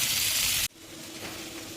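Cauliflower frying in a pan gives a steady, bright hiss that cuts off abruptly after under a second, leaving a quieter room background.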